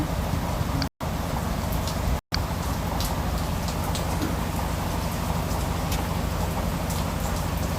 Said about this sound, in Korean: 소나기가 막 왔다가 그쳤다가 이렇게 해요.